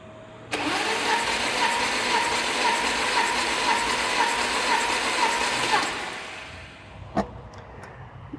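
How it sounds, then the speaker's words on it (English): Porsche 944 engine cranking over on the starter during a compression test, a loud rhythmic chugging of about ten even turns that stops abruptly, followed by a couple of faint clicks. "turning the engine over about 10 times on each"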